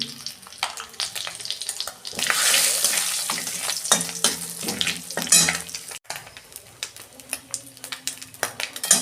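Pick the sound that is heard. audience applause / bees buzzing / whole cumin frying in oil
whole cumin frying in oil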